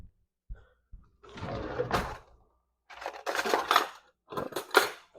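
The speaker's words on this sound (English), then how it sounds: "So let me grab a fork real quick." Metal cutlery clatters as a fork is grabbed from a drawer, a few separate close jangling bursts of clinking silverware with quiet gaps between them.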